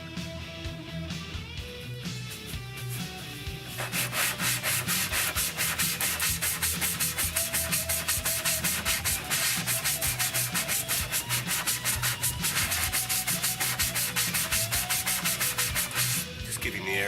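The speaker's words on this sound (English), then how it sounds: "Getting the area where we're going to mount the transducer using the kit, a bit of a sand." Sanding the plastic hull of a Hobie Pro Angler kayak to prepare a transducer mount, a steady close scratchy rubbing that runs continuously for most of the stretch, starting softer then louder over faint background music.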